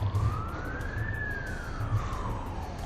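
A bird imitates a fire truck siren, one clear tone sliding slowly up and back down, over low rhythmic rumbling in the background, in Newington, Sydney, Australia.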